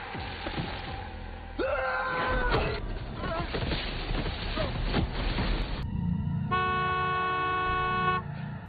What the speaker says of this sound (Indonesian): suara klakson mobil yang tak sengaja kepencet oleh Yuni